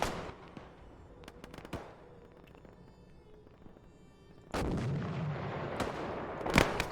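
Gunfire in an Arma 3 Gulf War-era combat scenario with tanks nearby: sharp distant shots early on, then a loud, dense burst of firing and a heavy blast near the end.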